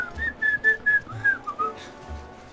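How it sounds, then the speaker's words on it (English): Someone whistles a short, wobbly tune of about six held notes close to the microphone, slightly unsteady in pitch, with brief breathy gaps and a faint background hum. "I can kind of whistle."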